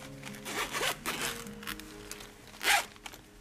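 Zipper on a small AliExpress pencil case being pulled open in a few short, close tugs followed by one louder final zip, with no voices over it.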